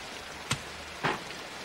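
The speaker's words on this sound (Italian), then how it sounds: "Uffa, che peccato, si è messo a piovere." Rain falls in an animated scene, a steady soft wash of hiss punctuated by two brief faint taps.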